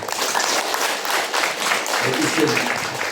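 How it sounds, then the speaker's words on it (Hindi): A crowd at a prayer and healing gathering in Pune claps in welcome, producing a dense, fairly loud wash of applause that swells and dips across the few seconds, with some voices mixed in. "स्वागत में ताली मारो"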